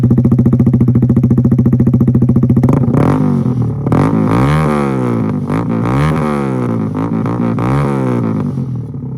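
Kawasaki Z125 motorcycle engine cranking with a rapid starter chatter, then catching and running loud and close, its small single-cylinder note rising and falling through several throttle blips.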